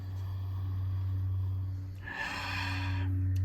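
A man takes a long, close nasal sniff of a glass of Heady Topper double IPA from The Alchemist Brewing, a breathy inhale lasting about a second over a low room hum.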